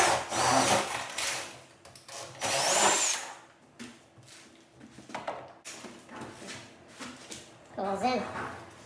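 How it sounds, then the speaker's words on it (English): A power drill from a Craftsman jig setup bores into a French door in a finished opening, in several loud bursts of whirring interrupted by pauses, clunks and quieter handling sounds. "you drill half on this side and then half on that side"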